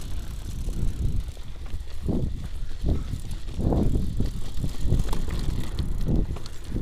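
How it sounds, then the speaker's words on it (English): Bicycle that is not carbon fiber rolling along outdoors, with a continuous rumbling ride noise, wind buffeting and rhythmic low surges, all close and moderately loud. "your bike sounds kind of not like a carbon fiber bike"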